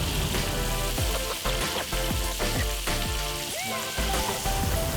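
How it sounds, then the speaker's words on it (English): Hot oil sizzles and crackles continuously as salmon deep fries, a dense bubbling hiss with occasional louder pops and spatters. "just like any deep frying, you want to do this in batches so the oil maintains a really nice high heat"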